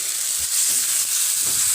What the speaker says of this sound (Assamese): এইখিনি এতিয়া অকণমান মই ভাজি লম